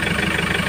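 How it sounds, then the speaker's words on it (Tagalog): A Hyundai Porter 2 truck's D4CB diesel engine idles steadily nearby, a continuous low rumble with a constant mechanical chug and no voices. "ito na yung tunog ng makina"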